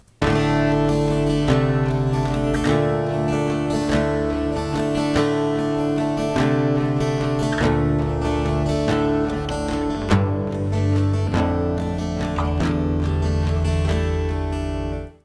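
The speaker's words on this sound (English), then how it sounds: "some guitar chords played by a single strum" Acoustic guitar in DADGAD tuning sounds sustained chords, each struck once and left to ring, within a full, steady arrangement with dense harmonic layers throughout.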